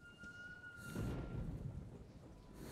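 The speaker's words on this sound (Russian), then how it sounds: "Молния кругом бьет." Thunder from a storm in Metro: Last Light Redux, a deep rumbling crack swelling about a second in and rolling on over steady rain and wind, with faint tonal hum from the game in the first second.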